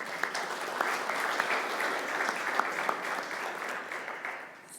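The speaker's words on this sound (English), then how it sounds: "Can we have a round of applause?" Church congregation giving a round of applause for new members, a steady, moderately loud wash of many hands clapping at an even level before tapering off at the end.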